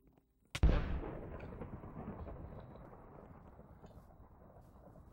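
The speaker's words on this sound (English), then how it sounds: "Oh, this guy might get struck by lightning." A lightning strike in Minecraft Hunger Games: one sharp, loud crack followed by a long rolling thunder rumble that gradually fades away, with no talking.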